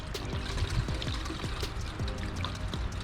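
Coolant pours from a funnel into the overflow reservoir of a Jeep JK during a thermostat replacement and coolant flush, a steady gurgling trickle with repeated glugs heard up close and alone for about three seconds.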